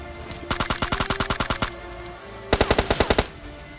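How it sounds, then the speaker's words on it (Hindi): Automatic gunfire in the mobile battle royale game PUBG Mobile: two rapid bursts of evenly spaced shots, the first longer and the second shorter and louder, with no talking. "मैंने यहाँ पर शॉट लेने की कोशिश की लेकिन मिस हो गया"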